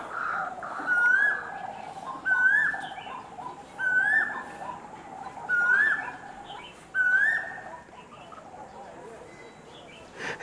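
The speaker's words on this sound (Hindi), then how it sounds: "उधर नीम के पेड़ से बोल रही हैं" An Asian koel calls from a neem tree, five rising whistled calls spaced evenly at a moderate distance over a soft murmur of outdoor background noise.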